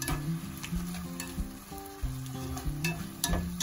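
Meat sizzles loudly in a hot pan with soy sauce while a utensil stirs and scrapes through it in quick, uneven strokes.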